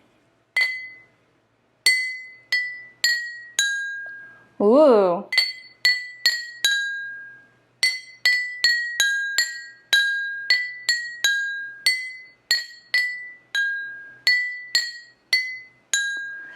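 Water glasses filled to different levels are struck one after another, each giving a bright ringing tone that decays quickly, in quick runs of rising and falling pitches with short pauses; a voice briefly exclaims midway.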